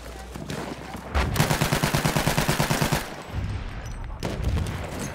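Rapid bursts of automatic gunfire from a weapon fired from the hip in Battlefield 1, a loud rattling volley of around twenty shots lasting nearly two seconds, then shorter bursts amid battle noise.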